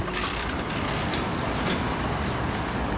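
A tram passes along a city street at a tram stop in Krasnodar on a spring morning, a steady loud rumble of rail wheels and motor with traffic noise around it.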